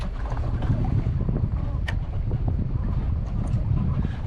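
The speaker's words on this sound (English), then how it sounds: "So we're beating out, tacking out across the wind." A sailboat beats to windward, tacking across the wind, with steady rushing wind and water noise buffeting the microphone, continuous and close, with no talking.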